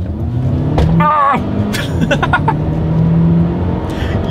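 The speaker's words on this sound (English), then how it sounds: "let's see how quickly we can get this new 2022 XC40 here up to speed" A 2022 Volvo XC40 compact SUV in dynamic driving mode pulls hard from inside the cabin, its engine drone rising steadily beneath a brief shout and a few clicks.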